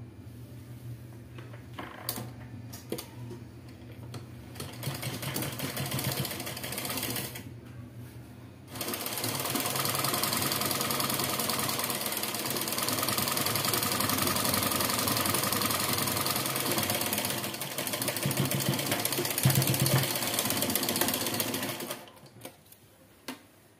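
A sewing machine stitches a four-panel petticoat in a long, steady mechanical whir with a fast ticking rhythm, loud and close, pausing briefly partway and stopping near the end.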